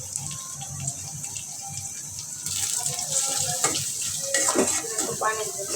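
Water from a tap is added to a pan of vegetables seasoned with salt, chili and turmeric in a home kitchen, a close running gush that swells midway, with light stirring and scraping underneath.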